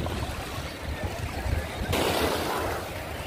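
Ocean waves wash in at Hawks Bay beach in Karachi, a continuous roar of surf with wind that swells louder partway through, heard close by and with no talk over it.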